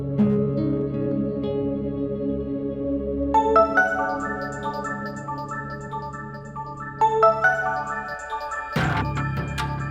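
A melodic electronic ringtone plays a bright, repeating tune, loud and clear with no voices over it.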